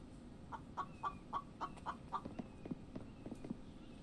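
Two video game chickens cluck in a quick run of short, bright, rhythmic clucks, then a few scattered softer ones, heard close and fairly quiet with no talking.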